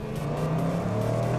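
Performance car with an active exhaust set to quiet mode, a loud, steady, deep exhaust rumble with a low tonal drone throughout the short stretch, heard close with no talking.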